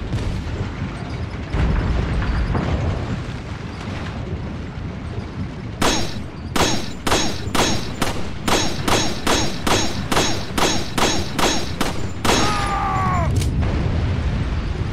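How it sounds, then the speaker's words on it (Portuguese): A rapid series of sharp pistol shots in the video game Resident Evil 4 HD cracks out in bursts, about a dozen evenly spaced shots, loud over a low rumbling background. "quanto tiro de pistola?"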